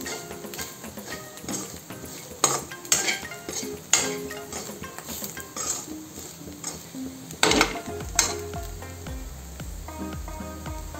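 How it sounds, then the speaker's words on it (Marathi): Food browning in a frying pan, with a soft background sizzle broken by sharp metallic clanks and scrapes of a utensil against the pan at irregular intervals, close and fairly loud. "आनी मातशे भाजूंक जाय।"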